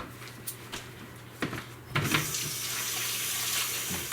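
Tap water runs into a sink while a raw blue-green amber piece is rinsed with dish soap; a few knocks and clatters come first, then the flow grows to a steady, close splashing rush.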